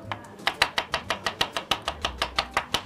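Knife chopping vegetables on a board for a salad in a kitchen, a rapid even series of about fourteen close, crisp cuts with no talking.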